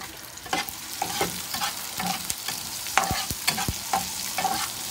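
Okra and tomato with green chilli are stir-fried in a pan, a steady sizzle broken by repeated scrapes and clacks of a spatula stirring in an uneven rhythm, close and clear, with no talking.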